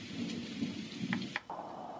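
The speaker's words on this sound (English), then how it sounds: "Rain and thunder." Steady rain hiss with low rumbling thunder, played back continuously, then abruptly cutting to a different steady noise near the end.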